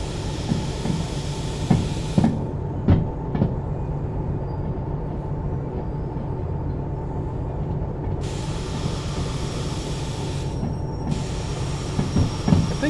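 A big freight train rolls on rails in the VR video game Derail Valley, with a steady heavy rumble and clattering wheel clicks, plus hissing bursts that come and go.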